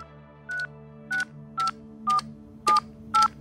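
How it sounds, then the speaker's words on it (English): A telephone number is dialed by touch-tone in a tense phone-call setting: six short, evenly paced DTMF beeps ring out clearly over a faint steady hum, with no talk and no ringing yet. "Weinberg dials the number and sits waiting as the phone rings"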